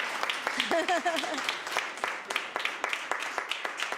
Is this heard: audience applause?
yes